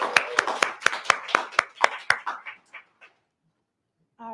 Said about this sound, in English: a round of applause for that breakfast this morning.